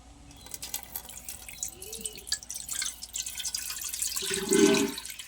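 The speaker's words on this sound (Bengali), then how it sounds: "ওপরের থেকে পরিষ্কার জলটা আমি ফেলে নেব।" Clear water poured off settled homemade cornflour, trickling and dripping steadily into a sink, with a brief louder splash near the end.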